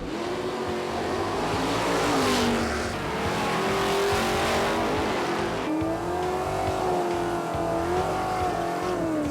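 Outlaw Street drag race cars launch hard on street tires. A loud, continuous, close engine roar swells and shifts in pitch as the revs climb, with no talk.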